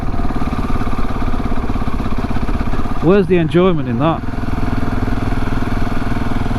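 A KTM 690 Enduro R motorcycle engine rumbles steadily at about 20 mph, close and loud throughout, while someone speaks briefly over it.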